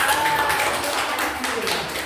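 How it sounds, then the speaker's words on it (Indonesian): Teachers applaud together in a classroom at the close of a school activity, a steady wash of clapping filling the room with a faint tonal voice briefly over it. "Tepuk tangan buat Bapak Ibu semuanya"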